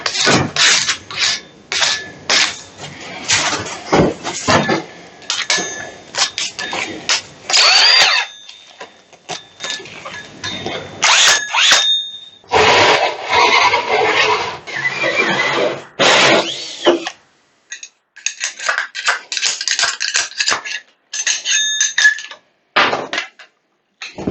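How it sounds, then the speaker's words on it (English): A hole saw cuts vent holes in a shed wall, giving loud, grinding bursts that start and stop repeatedly, with rattles and knocks between the cuts. "Now I'm going to take my hole saw. We're going to punch out all 8 of these vents"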